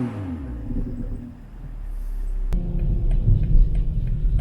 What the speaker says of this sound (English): here's a quick exhaust clip.